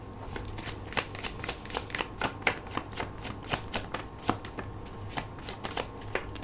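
Close, quiet shuffling of a tarot deck: rapid papery riffles and light card slaps in an even, continuous rhythm, no talking heard.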